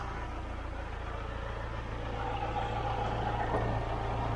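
A diesel car engine, a 200 TDI, running close by at a steady idle: a constant low rumble with a slight rise in level partway through.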